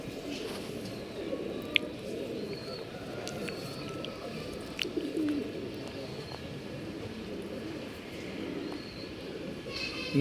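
Pigeons, including a Sabja-type bird, coo softly in a loft in RT Nagar, Bangalore, as low murmuring calls under a steady background din, with a few faint chirps.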